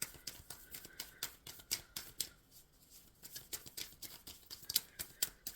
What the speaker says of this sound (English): Shuffling for Aries.